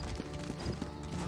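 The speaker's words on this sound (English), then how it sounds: "Take my horse, Weemy." Horse hooves clip-clop at a steady walking rhythm in the Elder Scrolls Online video game, fairly close and continuous over a low background hum, with no talking.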